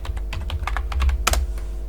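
Fingers type a login password on a computer keyboard, a quick, uneven run of close, crisp keystroke clicks with one sharper double tap near the end, heard alone over a low hum.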